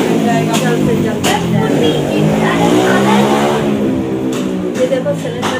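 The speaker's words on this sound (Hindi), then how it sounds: "ये देखो सिलेंडर निकाल देते हैं गाड़ियों का। हाँ इतना तेज आवाज़ आती है।" A car with its exhaust silencer removed revs loudly nearby, a harsh, raspy engine roar that rises and falls, with a voice talking over it.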